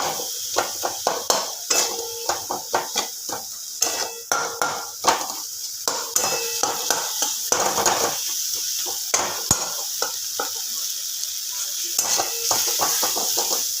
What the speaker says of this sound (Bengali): সমস্ত মশলা ভালো করে একটু কষিয়ে নিতে হবে